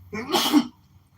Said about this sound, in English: He's sneezing over there.